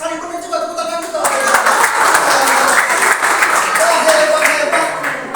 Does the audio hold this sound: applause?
yes